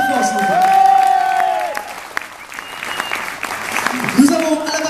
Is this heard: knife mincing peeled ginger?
no